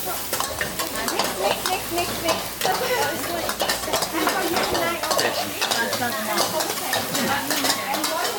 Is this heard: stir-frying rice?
yes